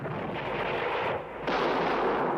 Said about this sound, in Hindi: गुलाम गौस खां की गोलंदाजी के सामने कंपनी की सेना नहीं ठहर सकी और उसकी तोपें चुप हो गईं।